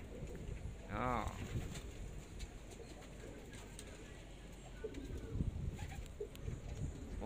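Pigeons kept in a loft give a soft, fairly distant coo early on, with faint bird sounds over a steady background murmur that may include quiet voices.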